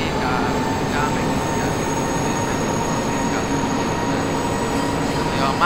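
Budapest M1 metro train in the OpenBVE simulator game, running under the City Park lake: a steady, continuous rumble of wheels and motor with faint high whine, constant level throughout, no speech.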